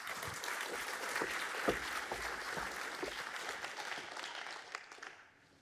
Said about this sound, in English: A round of applause for Lucy Yang.